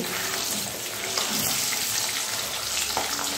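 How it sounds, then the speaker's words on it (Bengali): Pabda fish fry lightly in oil. A continuous close hiss and sizzle carries on throughout, with no talk. "এই পাবদা মাছ কিন্তু খুব একটা বেশি ভাজার দরকার নেই, হালকা ভেজেই তুলে নিতে হবে।"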